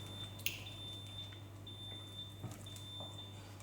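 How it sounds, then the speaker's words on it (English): A kitchen timer goes off beside a pot of shrimp and saffron risotto with arugula: a faint, steady, high electronic tone that holds almost unbroken through the whole stretch over a low background hum. "my timer is telling me that it's ready"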